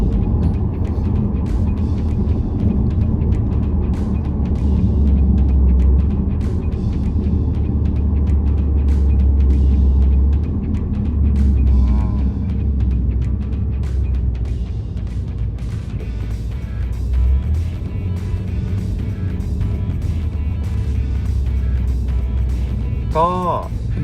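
A steady low rumble of road and engine noise from inside a car cruising along the Rama 2 area roads in Bangkok, continuous and even, with someone talking over it throughout.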